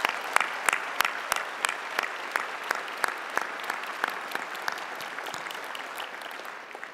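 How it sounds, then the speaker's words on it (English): An audience at a 2014 spring university convocation applauds, rhythmic clapping that starts with distinct sharp claps and then blends into a dense round of applause that fades slightly toward the end. "let's give him a good round of applause"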